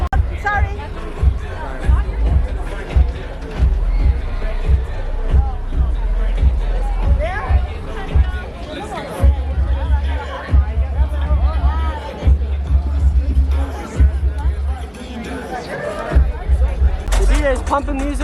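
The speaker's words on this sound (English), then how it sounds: "DJ's pumping music over here and it's way busier than before. This crowd is massive." A massive New Year's Eve crowd at Universal CityWalk fills the air with dense, loud hubbub and chatter, many overlapping voices near and far, with thumping DJ music underneath.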